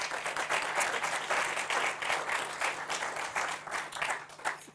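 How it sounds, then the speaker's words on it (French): An audience at an innovation conference on sustainable aviation fuels claps for the speakers, a full round of applause with slightly uneven swells, fairly close and sustained throughout. "Je crois qu'on peut applaudir nos intervenants."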